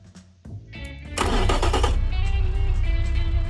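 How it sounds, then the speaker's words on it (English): A 90-degree V engine in the Automation car-building game cranks briefly, then catches and roars to life, settling into a loud, steady, rumbling idle with no talk over it. "Now let's fire it up and see how it will sound."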